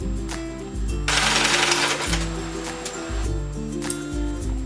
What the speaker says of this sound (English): then we're going to sew right there